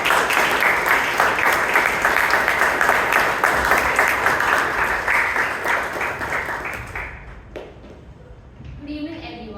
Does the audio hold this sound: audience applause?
yes